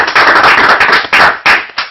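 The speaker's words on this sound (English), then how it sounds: "Shall we give a round of applause?" Applause from a small audience after a soil and rocks lecture, loud and close, a burst of clapping with uneven bursts and short dips, ending abruptly within two seconds.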